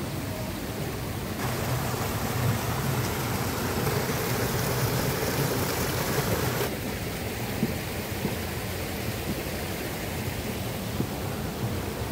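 Continuous rushing water of a stream on a Yangmingshan hiking trail in Taipei, loud and close, tumbling over rocks, with a brief shift in tone partway through and no talking.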